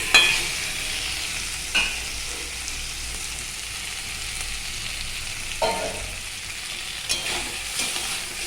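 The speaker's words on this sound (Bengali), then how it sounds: "তারপরে এখানে আমি মশলাটা ভালো করে কষাচ্ছি।" Spice paste tempered with black cumin seeds fries in a pan, a steady bright sizzle running throughout, with a few louder stirring scrapes and clatters at intervals.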